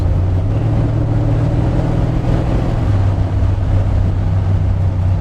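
A 1974 Stingray Corvette cruises in third gear, its engine giving a loud, steady low drone with constant rumble and some wind noise, unbroken throughout.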